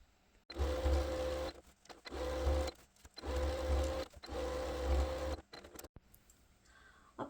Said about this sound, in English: to take it over the sewing machine and top stitch all the way around.